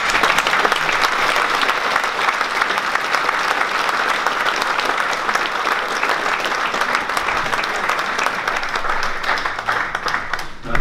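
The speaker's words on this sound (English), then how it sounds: "I ask you to give a good round of applause" Dense, sustained applause from an audience at a Wicklow GAA awards evening, loud and even throughout with many hands clapping together.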